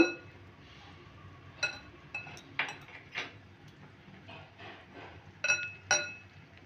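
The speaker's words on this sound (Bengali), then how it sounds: "সব উপকরণগুলো ভালো করে মিশিয়ে নেব" Dry pineapple cake ingredients with baking powder, baking soda and a pinch of salt are mixed in a bowl, heard as sparse light clinks and taps of a utensil against the bowl over a quiet background.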